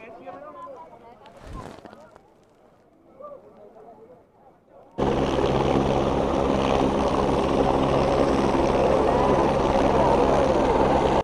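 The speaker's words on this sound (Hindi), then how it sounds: "देखिए किस तरह से हेलीकॉप्टर, ये देखिए इसने लैंड कर लिया।" A landing helicopter's loud, steady rotor and engine roar at a Kedarnath helipad starts abruptly after a few seconds of quiet voices and continues close by.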